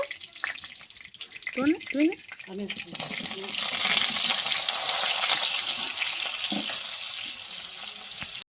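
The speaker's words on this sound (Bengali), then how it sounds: "এবার আমি এই তেলে এঁচড়টা ভেজে নেব।" Chunks of young jackfruit go into hot oil in a pan, starting with a few soft clinks, then a loud, steady sizzle that keeps hissing evenly to the end.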